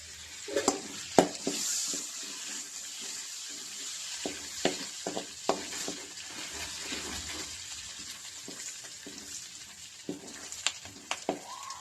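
Bay leaf, cinnamon and cardamom frying in hot butter and oil for paneer pulao in a home kitchen, a steady sizzle with stirring clicks and utensil taps scattered throughout, no talking.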